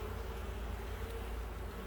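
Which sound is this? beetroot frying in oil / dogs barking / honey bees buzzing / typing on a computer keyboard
honey bees buzzing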